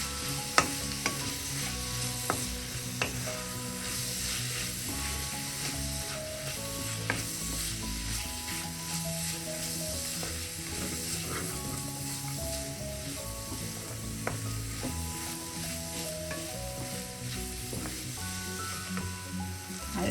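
Spiced chicken liver fries in oil in a pan and is stirred, giving a steady sizzle broken by scraping strokes, with soft background music throughout.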